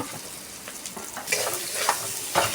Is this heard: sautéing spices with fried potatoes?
yes